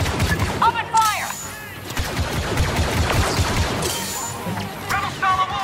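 Blaster fire in a Star Wars Battlefront II story mission battle: dense, continuous rapid shots and bursts with energetic zaps and explosions, voices shouting over the combat.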